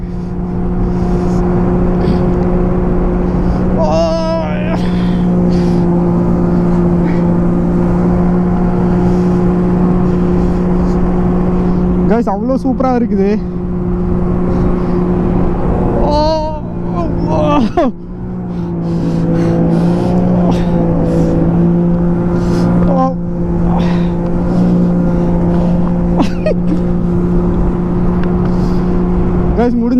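A jet ski speeds across open water at about 70 km/h. Its engine drones loudly and steadily at close range, with spray and wind noise and brief surges, while a rider talks over it at times.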